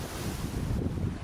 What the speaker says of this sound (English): Cruising to Rarotonga, the waves became higher and rougher